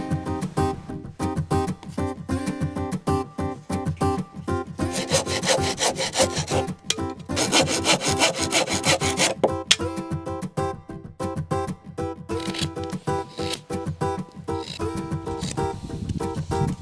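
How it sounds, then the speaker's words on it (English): Split cedar strips for a birch bark canoe having their edges chamfered with a blade, producing a close, rhythmic rasping scrape in repeated strokes, louder in the middle stretch. "That's why you have chamfer the edge, bring it to a pretty sharp edge."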